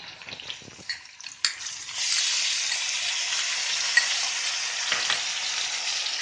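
Onion hits hot oil with garlic-ginger paste and bay leaf for paneer masala, a few stirring knocks first, then a sudden sizzle that swells into a steady bright frying hiss, near and clear, no talking.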